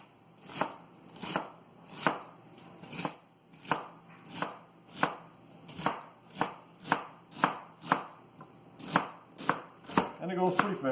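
Produce for breakfast juicing gets cut into thin slices, a rapid, even series of crisp knife chops on a board, close and loud, keeping a steady rhythm of about two per second.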